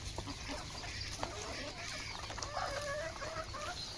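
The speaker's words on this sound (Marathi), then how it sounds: "असं टमाटे आपली पार करली कोंबड्याने खाऊन." Chickens on a farm feeding on tomatoes, clucking softly and steadily at close range over a constant low hum, with no talking.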